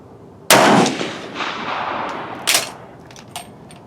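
A rifle fires a single loud shot of 150 grain Hornady Full Metal Jacket ammunition loaded in GP11 brass, a sharp blast followed by a long outdoor echo that rolls away over the range, with a couple of fainter distant reports trailing after.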